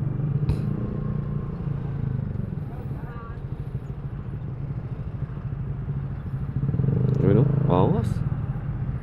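A Sniper 155R motorcycle engine runs with a steady rumbling drone that swells briefly near the end, while someone talks over it.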